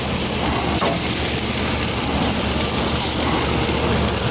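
Octopus sizzling on a hot oiled grill, a loud, steady broadband hiss and crackle running continuously throughout with no talking.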